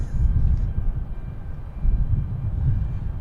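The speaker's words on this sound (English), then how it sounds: "we have a Delta heading out" A Delta airliner taking off at Boston Logan Airport, heard as a heavy low engine roar that stays loud and rumbling throughout.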